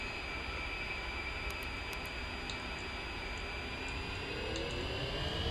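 An A-10C Warthog jet taking off in the DCS flight simulator, a steady loud engine roar with a rising whine that builds slightly toward the end, with no one talking.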